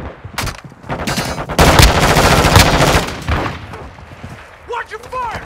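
Bursts of automatic gunfire in a Call of Duty Modern Warfare team deathmatch, loud and repeated in rapid volleys, with shouted voices between them.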